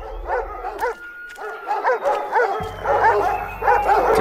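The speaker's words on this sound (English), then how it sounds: "There seem to be dogs coming at us" Dogs barking from the video game Observer, a pack of repeated rapid barks and yips close by, several animals overlapping in quick bursts throughout.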